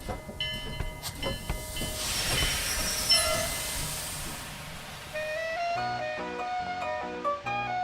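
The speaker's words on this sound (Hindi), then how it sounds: "ये हमारी ट्रेन नहीं है। ये जा रही है वेस्ट बनी हॉप" A cartoon train on the line to West Bunny Hop passes with hissing steam, clanking wagons and a squeal of wheels, followed by bright bell-like musical tones with no talk.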